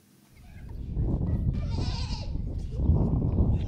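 Goats roam among rubble and ruins in Gaza, one bleating loudly and nearby in a drawn-out call, then another bleat follows over a rustling outdoor background.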